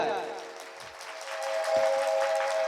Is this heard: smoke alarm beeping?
no